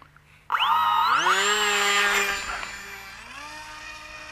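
An electric motor on a TopRC T1400 RC motor glider spins up sharply into a loud, rising whine, holds steady, then eases back to a lower, quieter drone as the throttle drops, heard close by.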